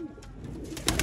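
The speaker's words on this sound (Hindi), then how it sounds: "ये वो कबूतर है जिनका हमारे पास रिजल्ट है, और ये हमारे ब्रीडर कबूतर है" Sialkoti breeder pigeons cooing, a short soft low coo close by with a slightly louder burst near the end.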